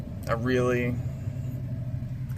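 A car engine idles steadily in a low, continuous hum with the air conditioning running, while a voice briefly sounds over it near the start.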